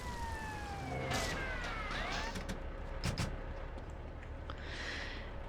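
A wailing emergency siren from a fire truck in the video game GTA Vice City rises and falls in repeated sweeps over steady in-game background noise, fairly close and prominent, with a few sharp thuds partway through.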